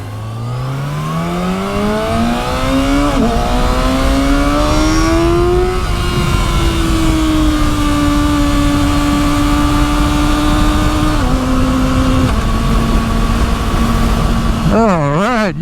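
A Kawasaki Ninja sport motorcycle pulls away and revs, its engine note climbing steadily through the gears, then holding a steady drone with a few shifts and a final burst of throttle blips, loud and close throughout.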